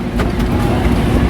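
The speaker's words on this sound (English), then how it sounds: "Cars are coming into the pits hot." Race cars rumble into the pits at a June 2015 race event, a steady dense low engine drone with no distinct passes, fairly loud and continuous, with faint voices mixed in.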